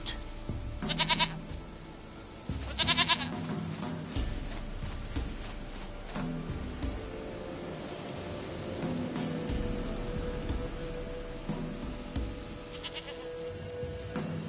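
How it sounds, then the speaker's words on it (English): Goat bleating in the video game Witcher 3 Wild Hunt, three loud wavering bleats, two close together at the start and a fainter one later, over a low ambient game soundscape. "Goat of mine, dearest, sweetest goat."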